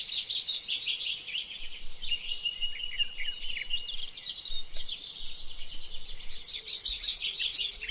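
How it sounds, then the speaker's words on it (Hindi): Several birds chirp and tweet in bursts of high, quick calls against a quiet background hum, fairly near and continuous. "जंगल में पक्षियों की चहचहाहट"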